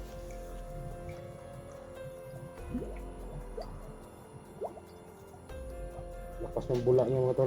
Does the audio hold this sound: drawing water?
yes